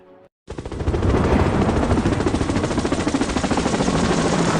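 Helicopter flying toward Mount Kailash, its rotor beating in a loud, fast, steady chop that starts abruptly after a brief quiet and continues without pause.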